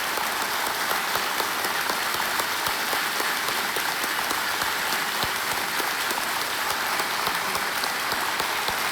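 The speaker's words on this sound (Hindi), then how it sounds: "तालियां बज जाए इनके लिए" Studio audience applause on the Kaun Banega Crorepati quiz show set, a dense, uniform wash of clapping that stays loud and steady throughout, without any speech over it.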